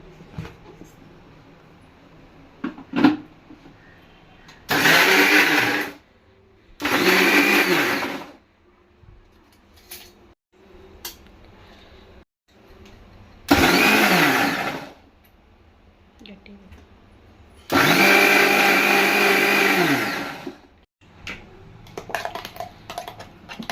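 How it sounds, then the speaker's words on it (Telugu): A kitchen mixer grinder blitzes cumin seeds, garlic and salt in loud bursts of a few seconds each, separated by short pauses. Faint clicks and handling noises fill the quiet gaps between the runs. "దీన్ని మిక్సీ పడదాం"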